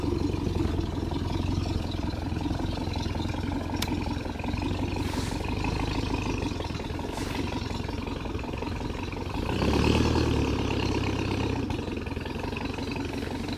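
A loud motor boat engine drones continuously on a Norfolk Broads river, a steady low rumble with a brief swell in power near the end.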